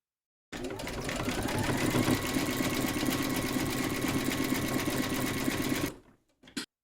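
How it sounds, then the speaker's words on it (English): An embroidery sewing machine satin-stitches around an edge of fabric in a hoop, a fast steady mechanical whirring buzz running for several seconds before stopping, followed by a brief click. "Load your matching bobbin and thread colour for the satin stitching around this edge into your machine and then stitch round number 6"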